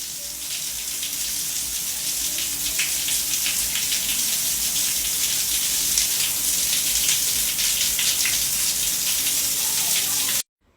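A shower runs steadily in a bathroom, water spraying and splashing in a constant loud hiss that cuts off abruptly at the end.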